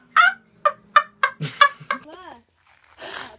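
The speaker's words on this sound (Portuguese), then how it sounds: "Pega a galinha." Chicken clucking in a quick rhythmic series of sharp calls at close range, followed by a few more drawn-out squawks and a brief rustle, during an outdoor family outing.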